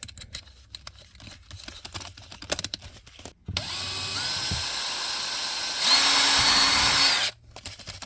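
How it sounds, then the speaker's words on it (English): A power drill fitted with a 1/16 bit bores a hole during BMW M3 pedal installation work, its steady whine starting partway through, rising in pitch under load for a stretch, then cutting off abruptly; faint handling noises come before. "I can kind of eyeball the position of my next hole that I'm going to drill."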